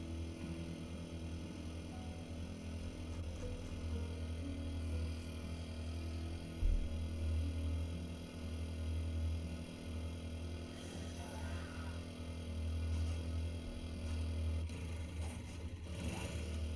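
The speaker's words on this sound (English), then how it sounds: "The motorcycle engine's loud." A motorcycle engine in the survival game 7 Days to Die drones steadily and loudly at close range throughout, with a low rumble and mild revving swells, no speech.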